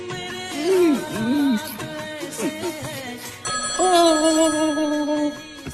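A phone plays a melodic ringtone for an incoming call, with a looping electronic tune of bright sliding notes that pauses briefly and then resumes at a steady, close level.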